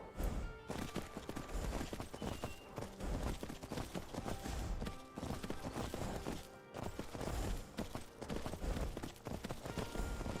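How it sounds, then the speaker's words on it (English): Horse hooves clip-clop steadily in Skyrim as a rider travels at a brisk pace, a continuous rhythmic drumming of hoofbeats mixed with game ambience, fairly quiet and with no talk. "We'll hop back on the horse."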